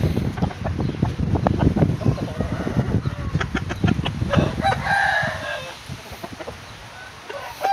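Fighting roosters on a farm, with bursts of clucking and a drawn-out crow mid-clip among sharp scuffling clicks, moderately loud and close.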